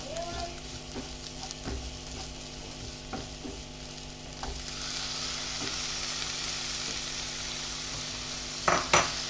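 Tomatoes sautéing in a pan for a Kerala-style fish pollichathu, giving a steady, close sizzle and frying hiss with periodic spoon clinks and scraping stirs, louder near the end, with no talking.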